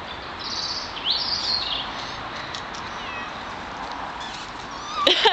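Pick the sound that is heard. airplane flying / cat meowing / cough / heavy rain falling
cat meowing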